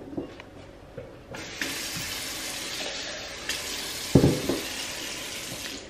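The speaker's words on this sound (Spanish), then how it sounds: "Voy a poner poquita más agua." Water runs in a steady hiss as it is poured into a blender holding salsa ingredients such as green chiles and salt, with a couple of brief clunks near the end.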